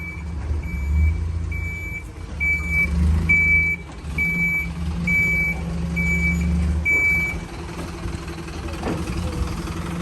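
A truck idles with a low engine rumble while turning around with its trailer attached during hazardous tree felling. A regular series of loud, close reversing beeps repeats over the engine for several seconds before stopping.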